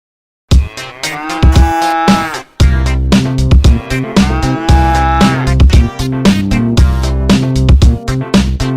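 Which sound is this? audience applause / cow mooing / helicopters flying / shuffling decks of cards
cow mooing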